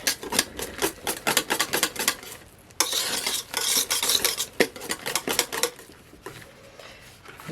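A thick tobacco-and-spice shaving soap mixture, looking like mashed potatoes, is stirred steadily in a pot, giving close, repeated scraping and clinking strokes of the utensil against the sides, with a denser stretch of churning in the middle.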